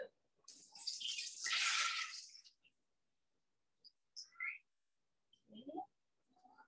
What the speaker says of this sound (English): and then you can pour your water